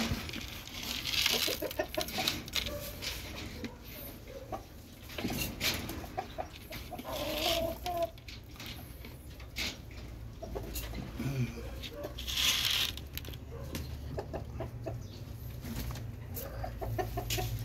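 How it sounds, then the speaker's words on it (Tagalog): Breeder chickens clucking steadily on a small Philippine farm with pigeons kept nearby, a busy mix of soft clucks and calls that carries on throughout, with someone talking over them. "Dito naman po yung ating mga manok"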